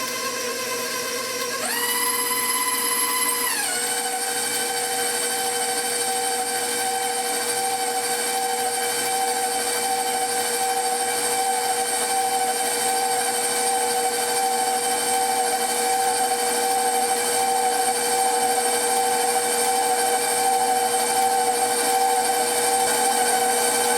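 An electric mixer beating flour into oatmeal cookie dough whines up to a high pitch, then settles into a steady, even motor hum that runs on without pause.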